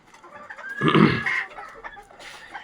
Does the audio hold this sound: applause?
no